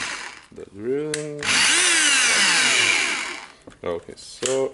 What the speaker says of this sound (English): The drilling.